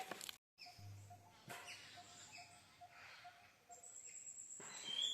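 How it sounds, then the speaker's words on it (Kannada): Many birds in a tree give faint, scattered chirps and tweets over a quiet outdoor background, with a few sharper calls clustering toward the end. "ಸಿಕ್ಕಾಪಟ್ಟೆ ಹಕ್ಕಿ ಬಂದಿದೆ."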